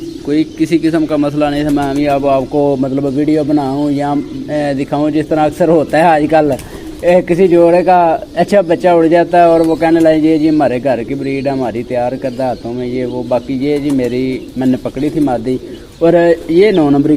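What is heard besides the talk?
pigeons cooing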